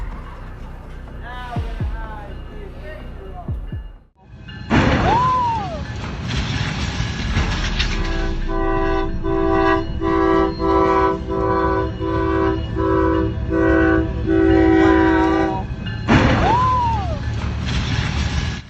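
A train passes with rumbling wheels and repeated blasts of its horn, loud and sustained, with a chiming bell-like tone ringing through the middle.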